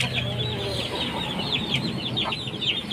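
Pet chickens clucking repeatedly in a steady, lively chorus of short calls, fairly close, with a low background hum and no talking.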